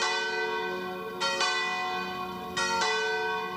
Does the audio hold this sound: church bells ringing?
yes